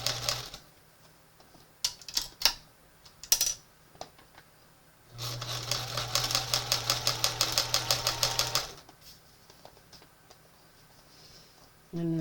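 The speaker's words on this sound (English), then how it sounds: "And I'm zipping it back up on the way up." A zipper on a chenille sofa cover is drawn closed in one long, close, rapid ratcheting run lasting a few seconds, set between quieter scattered clicks and handling noises.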